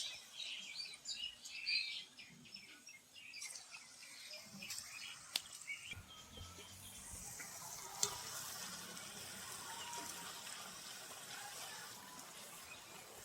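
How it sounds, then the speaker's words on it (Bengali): Palm fruit fritters (taler bora) deep-fry in oil with a faint, continuous bubbling sizzle, joined by a few soft clinks and distant bird chirps in the background. "ভেজে নেব এইভাবে সব পুরুলিগুলো, এভাবে আমি ভেজে নেব।"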